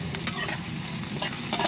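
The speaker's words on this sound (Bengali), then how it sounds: "তেলটা গরম হয়ে গেছে, দিয়ে দিচ্ছি পেঁয়াজ কুচি, দিয়ে দিচ্ছি তেজপাতা।" Chopped onion and bay leaf fry in hot mustard oil in a pan, a close sizzle broken by a few scraping stirs of a spatula.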